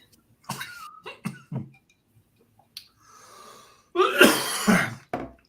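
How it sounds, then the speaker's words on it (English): Several sharp coughs close up, a short cluster early on followed by a louder, harsher coughing fit near the end, with quiet pauses between. "That was a cough"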